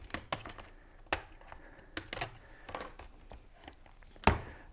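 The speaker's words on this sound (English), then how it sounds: "grab a thin metal pry tool, and we want to find the edge. And start popping the plastic clips" A thin metal pry tool works around the plastic screen bezel of an Acer C740 Chromebook, giving a run of sharp, irregular clicks and snaps close by, with one louder pop near the end.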